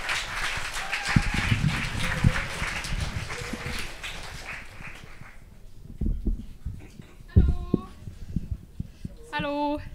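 Audience applause greets a performer coming onto the stage at a student bar event: a dense, steady patter of clapping for about five seconds that thins out and fades, followed by a voice speaking into a microphone.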